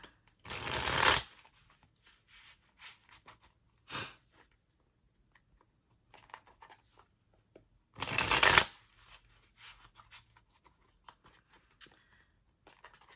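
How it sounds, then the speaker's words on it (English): A tarot card deck being shuffled up close: two loud riffling bursts and a shorter flick between them, with faint handling rustles in the quiet gaps. "I'm now going to pull one card for each sign"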